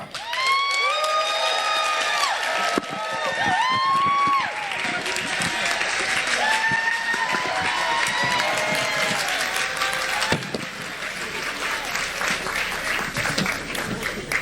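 Audience at a library centennial celebration applauding and cheering a soul singer taking the stage, loud sustained clapping mixed with whoops and high voices, crowd shouts and whistles layered over it throughout.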